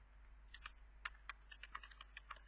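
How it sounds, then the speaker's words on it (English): Quiet, close typing on a computer keyboard, a quick irregular run of soft key clicks over a low electrical hum, with no voices. "So I'm just typing"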